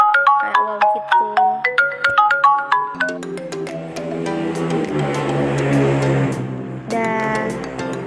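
A phone ringtone sounds during a test call, its bright melodic chimes ringing in a repeating pattern and then swelling into a fuller, continuous musical passage, loud and close with no talking.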